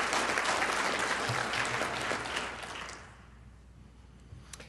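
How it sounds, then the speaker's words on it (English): An audience at a community forum claps loudly, the applause tapering off and dying away into a quiet room with a few stray sounds. "we need to give a big round of applause"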